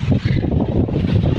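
Steady wind blows across a mountainside field in the Philippine countryside, buffeting the microphone with a continuous loud roar and no pauses or talk.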